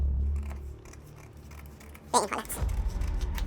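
Scissors snip through a paper pocket pattern in a quick, close cut, followed by paper rustling and handling noise in a quiet room.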